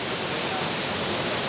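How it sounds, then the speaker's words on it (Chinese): A waterfall about 30 metres high roars with a steady, dense rush of falling water, loud and close, with no break. "我看这个瀑布落差差不多30公尺哦"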